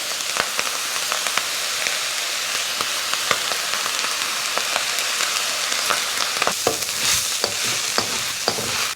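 Fried rice sizzles and crackles in a hot wok after soy sauce is added, a steady loud frying hiss with scattered sharp pops and stirring scrapes throughout, with no voices.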